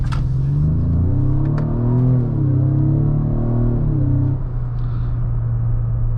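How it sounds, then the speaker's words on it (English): A 2025 Ford Explorer EcoBoost of about 300 horsepower in sport mode, its engine note boosted by synthetic cabin audio, gives a steady loud harmonic drone that swells and rises through a rev, then settles into a low constant hum. "pay attention to the pumped-in audio that Ford has put into this 2025 Explorer"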